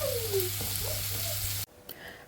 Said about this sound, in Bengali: এখানে আমি ভেজিটেবলগুলা ভেজে নিচ্ছি বাটারের সাথে।